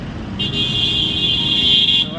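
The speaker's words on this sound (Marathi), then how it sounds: "ट्रॅफिक कसं आहे बघा" Busy roadside traffic near a bus stop in Kolhapur, with a steady engine roar and a long sustained car horn blaring almost throughout, close and loud.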